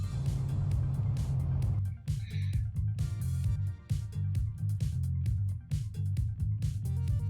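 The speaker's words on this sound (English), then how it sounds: "looks like we can't see Hoop's car because he's driving" Race car engine in the Trackmania racing game, heard in a competitive league match, with a steady loud droning hum and rapid rhythmic clicks and ticks layered over it, continuous throughout.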